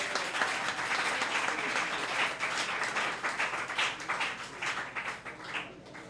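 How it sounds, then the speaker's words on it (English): An audience at a World Wetlands Day high school debate applauds both teams, a dense, continuous patter of many hands that holds steady and then thins slightly toward the end. "Give them a round of applause again"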